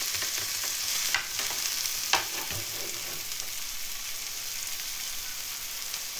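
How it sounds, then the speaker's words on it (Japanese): Steady, loud sizzling of onions and eggplant stir-frying in olive oil, with a few scraping stirs against the pan. "ここで玉ねぎに必要な分のオリーブオイルをかけて よく炒めていきます"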